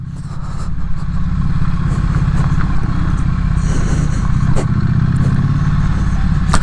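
A loud, close Triumph Street Twin motorcycle engine runs steadily with a throaty mid-range rumble, wind and road noise layered over it throughout.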